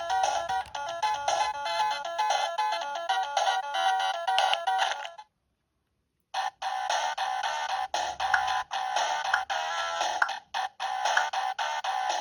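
Retro video game music and effects play from the small tinny speaker of a 2022 NX-35 handheld console, a busy looping chiptune that cuts out briefly midway, then resumes, close and without talk.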